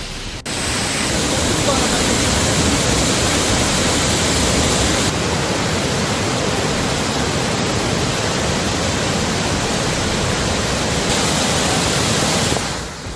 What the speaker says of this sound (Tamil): ஒகேனக்கல் காவிரி ஆறு மற்றும் அருவியில் நீர் ஆர்ப்பரித்து செல்வதால்